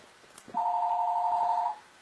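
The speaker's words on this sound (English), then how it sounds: "Someone's ringing you." Phone giving a single steady electronic ring tone of just over a second, fairly loud and close in a quiet room, with no talking.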